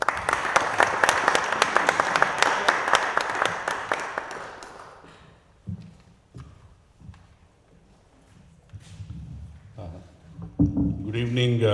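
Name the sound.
audience applause welcoming Reverend Robinson Asghar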